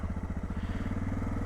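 A Suzuki DR650 motorcycle's single-cylinder engine chugs with a rapid, even thump, loud and close, as the bike is pulled out for an evening ride.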